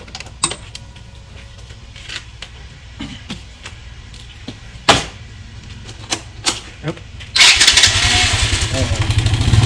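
A motorcycle engine is kicked and cranked a few times with sharp clacks before catching, then settles into a loud, steady, close idle for the last couple of seconds.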